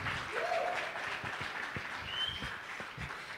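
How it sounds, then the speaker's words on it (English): Audience at a business summit clapping in a steady, moderately loud wash, with a few brief whistle-like tones over the broadband patter. "Can we give them a warm round of applause again,"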